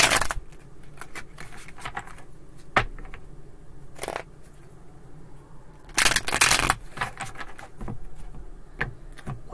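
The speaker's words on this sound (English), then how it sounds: "Two more shuffles." A deck of playing cards is shuffled indoors, soft papery riffles and flicks with a few sharper bursts of rapid card snaps, fairly quiet and with no speech.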